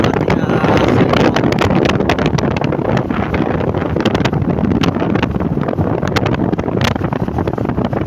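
Strong wind buffets the microphone in a continuous, loud rushing roar with gusty bursts, on the road to Gamay, Northern Samar.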